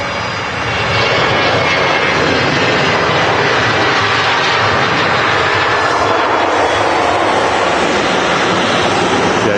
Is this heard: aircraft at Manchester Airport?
yes